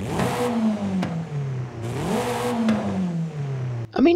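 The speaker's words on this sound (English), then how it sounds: "And here is with the race exhaust." Hyundai Kona N SUV fitted with a race exhaust in Forza Horizon 5, revving hard twice in rising sweeps that fall back to idle, loud and close with a crackle at the end.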